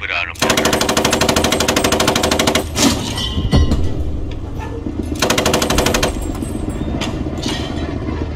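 Machine gun fire in the tactical war game Post Scriptum, sustained loud automatic bursts with a brief gap in the middle, over rumbling battlefield noise and a single heavy crack.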